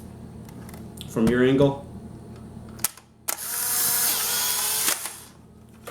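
Polaroid 600 camera firing with Impossible I-1 film: a sharp shutter click, then a second click and a whirring motor as the print is ejected for a couple of seconds. A person speaks briefly beforehand.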